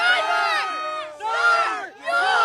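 A large crowd at a Road America motor racing event cheers and shouts loudly in surging waves, close and energetic.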